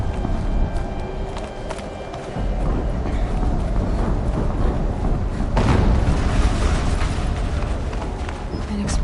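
An explosion goes off in a PS4 game, one heavy booming burst just past the midpoint rising out of continuous rumbling battle noise and footfall-like thuds.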